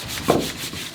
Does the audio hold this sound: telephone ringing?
no